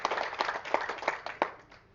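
A handful of quick, evenly spaced claps, fairly soft and a little distant, fading out toward the end.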